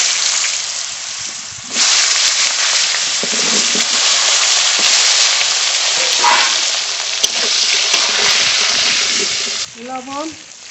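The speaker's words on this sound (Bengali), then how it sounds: "এবারে মাছের তেলেই আলু ভেজে নেব" Cut potatoes hit hot fish oil left over from frying silver carp, setting off a loud, dense sizzle that holds steady with occasional stirring clicks, then fades as a voice comes in at the end.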